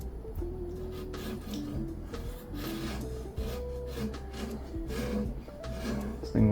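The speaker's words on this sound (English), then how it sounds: "I should probably clean off the glass before I do anything. So got my trusty little scraper here." A small hand scraper rubs and grinds along the glass of a 2.6-gallon pico reef aquarium, giving steady close scratching strokes in an irregular rhythm over a low humming background.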